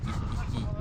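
A small dog at a parkrun barks and yips in short bursts over crowd noise and talk, fairly close.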